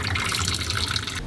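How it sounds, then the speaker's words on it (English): Water from a pot of cooked rigatoni pours out in one steady, close rush, as when the pasta is drained into a sink or colander. "I'm going to drain all of the pasta."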